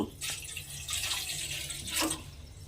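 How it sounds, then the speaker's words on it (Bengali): Water poured into a wok while cooking banana-flower dal, a steady splashing stream in two bursts with a brief lull between, close and moderately loud with no talking. "কড়ার মধ্যে আবারও আমি একটু জল দিয়ে দেব"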